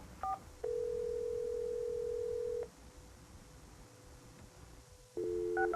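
Dialing tones on a US West screen phone during three-way calling: a short pair of tones, a long steady tone for about two seconds, then a quieter line hum and a final burst of rapid dual tones, all clear and close.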